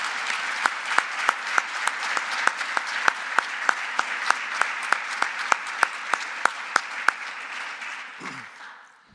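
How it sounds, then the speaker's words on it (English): Sustained audience applause greets Dennis LeBlanc at a Nebraska athletics press introduction, dense clapping with steady sharp accents throughout, then fading out near the end. "please help me in join a big round of applause for Dennis LeBlanc"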